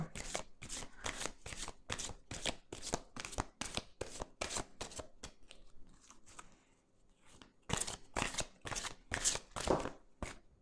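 Tarot cards are shuffled by hand in quick, close, crisp riffling bursts, with a quieter pause in the middle where some of the slippery cards drop, then the fast shuffling starts again.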